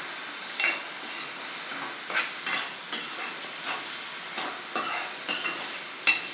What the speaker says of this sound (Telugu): ఉల్లిపాయలు, టమాటాలు, పచ్చిమిరపకాయలు ఒకసారి తిప్పుకోవాలి.